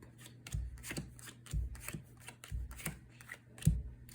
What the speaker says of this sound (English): for the final deal, you want to go back to dealing the top card face up